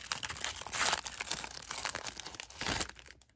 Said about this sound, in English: rip that off, and tear straight down the back